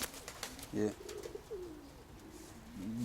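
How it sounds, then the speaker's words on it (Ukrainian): A grey checker pigeon in a breeding loft gives a soft, low coo up close, repeated a couple of times over a quiet background. "це ось цей сірий лускатий, це 18-й голуб"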